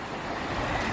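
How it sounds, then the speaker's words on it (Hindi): Flowing water of the Ganga river at Rishikesh, a continuous broadband rush and gurgle with some wind noise against the microphone, steady and fairly close. "तो कुछ देर शांति से गंगा जी की इस कलकल धारा का मधुर संगीत सुनते हैं।"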